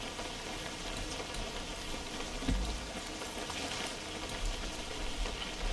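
Dense, steady rainfall in the WebFishing video game, a continuous close hiss of drops pattering on a surface with no talk.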